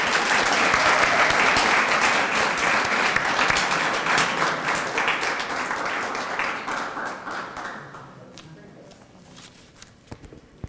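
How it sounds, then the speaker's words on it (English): Sustained audience applause at a Commission on the Status of Women recognition event, dense steady clapping from a crowd that gradually thins out and fades to a few scattered claps near the end. "Can we give them another round of applause?"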